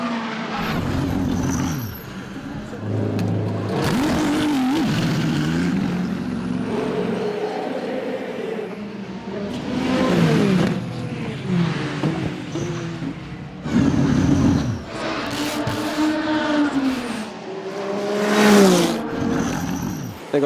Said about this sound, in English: And here comes Giovinazzi down the inside of the yellow Ferrari at La Source